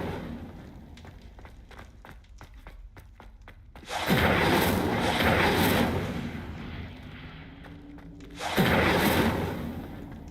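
Incendio fire spell blasts in the Hogwarts Legacy video game: two loud whooshing, roaring flame bursts, each lasting a few seconds with a gap between them, after a run of faint clicking taps.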